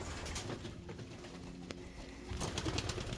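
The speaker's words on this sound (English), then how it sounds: "Man, these birds are startled." Startled racing pigeons in a loft, soft cooing and fluttering murmurs over a steady background hiss, a brief click midway and a busier burst of bird sounds near the end, with no one speaking.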